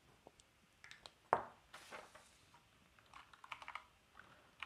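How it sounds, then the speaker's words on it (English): Light clicks of typing on a computer keyboard come in short, sparse bursts with one sharper tap, quiet and close, with no talking over them. "That's what I'm going to type into R."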